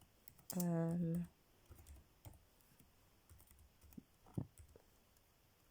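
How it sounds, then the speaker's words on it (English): Sparse, uneven one-finger keyboard taps click one at a time at close range, after a short hummed vocal sound at the start. "this one finger typing is so annoying"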